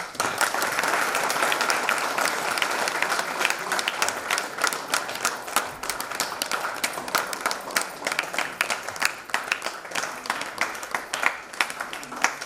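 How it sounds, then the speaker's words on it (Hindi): An audience at an indoor training program claps steadily, a dense, continuous patter of many hands at moderate distance, with no talk over it. "क्यों नहीं ताली वाली बजाते रहो।"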